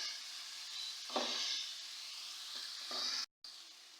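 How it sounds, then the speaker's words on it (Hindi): Chopped onions frying in a pan for a chicken samosa filling, with a steady close sizzle that swells briefly when stirred, then a short cut to silence before the sizzle resumes. "बस इसका कच्चापन ख़त्म होने तक मैं इसको फ्राई करूँगी।"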